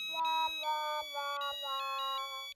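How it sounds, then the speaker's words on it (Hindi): A phone ringtone plays a repeating electronic melody of clear, bright tones, looping several times with no voices. "किसका फोन बज रहा है?"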